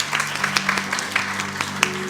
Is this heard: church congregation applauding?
yes